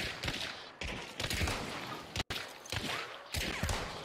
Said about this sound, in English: I'm shooting, like, right at him